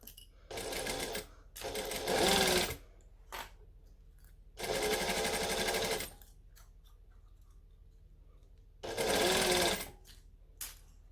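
A home sewing machine stitches around the edge of a Butterick B6764 garment in three long, steady bursts with short clicks between them, fairly close and loud, with no talking.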